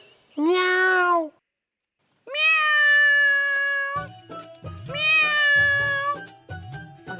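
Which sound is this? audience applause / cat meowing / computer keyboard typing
cat meowing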